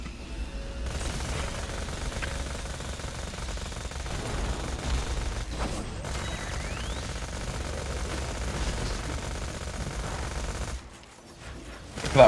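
Rapid automatic fire from the Fast Hopper gun in Borderlands: The Pre-Sequel, a dense continuous rattle of shots lasting about ten seconds at steady loudness, breaking off briefly near the end.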